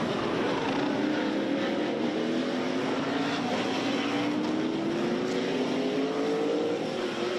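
Stock car engines roar in a sustained, loud drone during an SVRA race at Sebring, with a rising engine tone sweeping upward over steady broadband noise and no talk.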